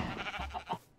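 A video game sheep gives a short, fairly close bleat that wavers over about a second and stands alone without talk.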